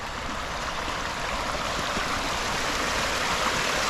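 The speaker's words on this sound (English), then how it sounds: "All that water that runs down there, look." Water runs down a channel into a pool on the grounds of Himley Hall in the Black Country, a loud, steady rushing stream with no break.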